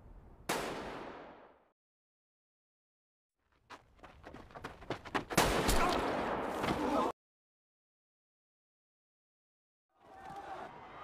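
Gunfire erupting from many directions during a deadly elimination game in Squid Game, heard as a sharp burst, then a dense, loud volley of overlapping shots lasting several seconds, followed by silence and a further burst of noise.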